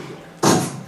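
A human voice imitates a water balloon with a sudden, short burst of breathy noise that starts sharply, then fades over about half a second, heard close and alone.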